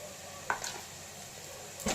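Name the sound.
sautéing coconut and jackfruit in a pan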